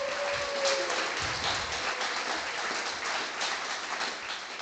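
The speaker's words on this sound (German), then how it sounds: "euer Applaus für Jasmins Bild und OpenAI." Audience applause at a prompt battle event at loscon24, a steady broad clapping from a crowd that holds for several seconds at moderate level without fading.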